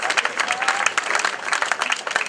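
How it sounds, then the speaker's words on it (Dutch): Crowd applause at a cycling race in Lekkerkerk, lively continuous clapping from many hands, fairly close and loud, with crowd murmur mixed in. "Applaus voor Bram Hofman nogmaals."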